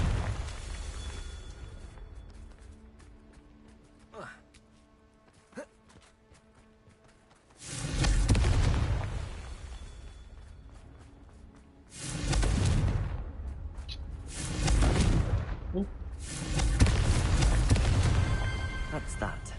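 Confringo blasting spells explode in Hogwarts Legacy, with three heavy booming bursts that each roar for a couple of seconds, loud and close, after a quieter stretch of smaller game effects.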